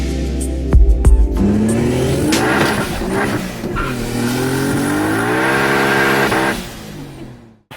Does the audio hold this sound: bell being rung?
no